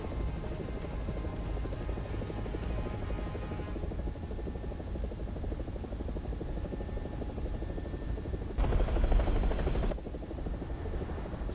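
Steady, loud MD500 light helicopter rotor thrum from War Thunder, a continuous chopping drone running throughout with a brief brighter, louder surge near the end and no talk.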